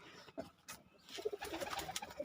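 A pair of biscuit pigeons coos softly nearby, with several low, rounded coos repeating at an uneven rhythm and growing busier toward the end.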